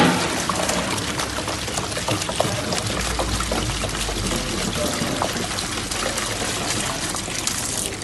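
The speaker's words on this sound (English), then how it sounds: "Finally, the water goes in there and the milk." Water and milk pour steadily into a large mixer bowl holding 38 kilos of croissant flour, a continuous rushing, splashing flow that holds for several seconds.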